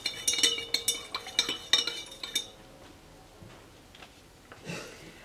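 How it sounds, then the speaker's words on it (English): A utensil stirs copper sulphate solution in a container, giving a rhythmic series of light metallic clinks and taps against the side, fading to quieter scraping and faint movement. "Let's give that a little stir."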